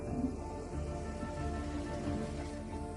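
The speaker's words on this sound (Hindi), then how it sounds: "जबरदस्त बारिश से कोई अछूता नहीं रहता" Heavy rain pours down steadily in a wild landscape, a dense, unbroken hiss of drops drumming on surfaces, loud and close throughout with no voices.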